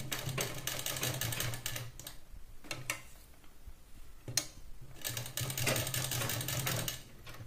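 A sewing machine runs in steady bursts while stitching a two-piece blouse, a rapid mechanical whir that stops and restarts with a quiet pause in the middle, close and clear.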